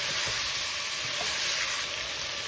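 Salt and turmeric fry in hot oil in a pan for a chicken qorma, giving a steady, close, continuous sizzle with faint stirring scrapes and no voices.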